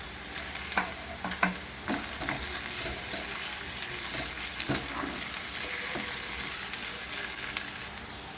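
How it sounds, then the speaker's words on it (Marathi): Potatoes fry in a pan for a Goan stuffed squid dish, giving off a continuous close sizzle broken by several sharp clinks and scrapes as they are stirred. "हेचे आतां बटाट घाता ते फ्राय कोता"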